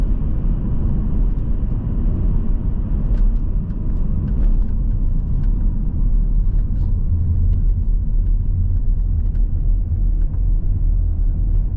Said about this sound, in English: it's largely uneventful driving a Volvo